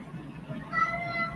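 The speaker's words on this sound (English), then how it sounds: "cat smelled it" A cat gives a drawn-out meow, fairly close and clear, in a kitchen where bacon-wrapped water chestnuts are cooking in an air fryer oven.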